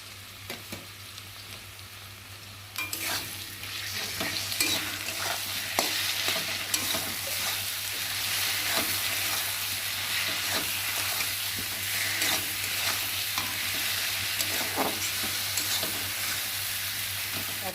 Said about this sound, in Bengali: সর্ষে তো বেশি ভাজলে তেতো হবে, তার জন্যে হালকা করে ভেজে নিয়েছি